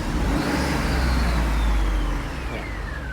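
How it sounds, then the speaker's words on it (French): Engine of a 1990 Mercedes SL 500 idling steadily just after starting, a loud, close, smooth low rumble with a faint high whine drifting downward and no voices. "la voiture est démarrée"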